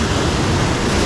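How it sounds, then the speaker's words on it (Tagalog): Ocean waves on an island shore rush and splash in one dense, loud, continuous wash of surf with no break. "nakakaaliw tong alon na to"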